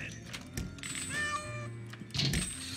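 Cartoonish cat meows from the stealth heist game Monaco, a couple of drawn-out whiny calls standing out clearly over the game's ambient music and effects.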